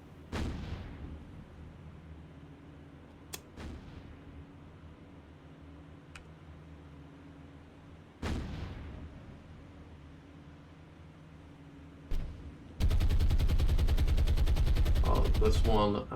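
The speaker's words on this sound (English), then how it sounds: "I have allowed my ships to start firing." Warship guns fire at an enemy ship in the naval video game War on the Sea. Several separate heavy booms with decaying tails are spaced seconds apart, followed by a loud, sustained roaring burst near the end.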